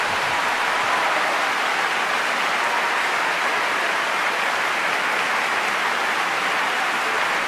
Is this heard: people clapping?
yes